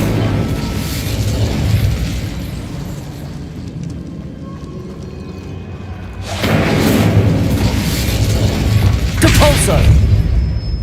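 A fire spell cast in Hogwarts Legacy bursts out as a loud whooshing blast in the middle of the clip, with a second flare soon after, over continuous game ambience and action noise.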